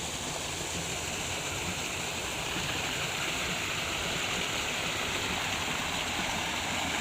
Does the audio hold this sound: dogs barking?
no